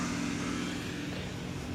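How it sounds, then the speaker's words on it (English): Tile being cut nearby, heard outdoors beside a front-yard garden as a steady, continuous grinding whine with a low hum, filling the short moment without a break. "I think they're cutting tile"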